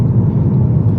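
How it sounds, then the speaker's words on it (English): A low, steady engine rumble from the exhaust of a Ford Focus ST diesel estate car, continuous and fairly loud for a brief moment, with no talking. "So yes, exhaust does sound sweet."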